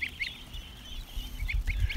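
Ducks quack in short nasal bursts, several calls scattered across the moment, close by and moderately loud, with some low rustling and movement underneath.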